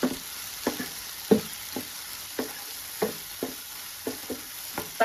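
Tomatoes sautéed in a pan for kulambu, a low sizzle punctuated by regular spoon strikes and scrapes against the pan roughly every half second, close with no speech.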